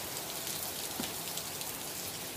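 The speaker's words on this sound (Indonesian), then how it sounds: "Dan lu bisa lihat di sini hujan." Rain falls steadily at a scenic tourist spot in Ciwidey near Bandung, Indonesia, a dense continuous hiss with no voices.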